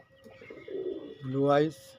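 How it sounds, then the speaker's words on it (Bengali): A racing pigeon gives a short, close, rising coo lasting about two seconds, with a softer murmur before it. "একদম লং দৌড়ানোর পায়রা"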